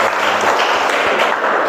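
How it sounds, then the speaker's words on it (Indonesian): Applause in a vocational automotive class for a presenting student group, a steady, loud wash of many hands clapping throughout, close and dense, with no distinct speech. "Beri tepuk tangan untuk kelompok 1."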